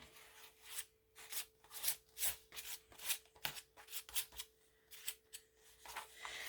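A spatula spreads thick modeling paste across an art journal paper page, giving repeated scraping, rubbing strokes in an uneven rhythm, close and fairly quiet.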